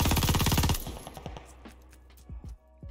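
Rapid bursts of MG42 machine gun fire in a video game, a dense loud rattle for under a second, then a few scattered single shots and impacts trailing off.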